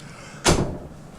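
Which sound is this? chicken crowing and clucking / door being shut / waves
door being shut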